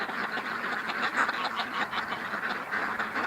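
Ducks quack softly in a continuous, fairly faint chatter, several birds calling together at some distance.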